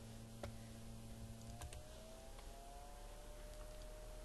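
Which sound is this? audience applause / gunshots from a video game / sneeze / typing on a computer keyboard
typing on a computer keyboard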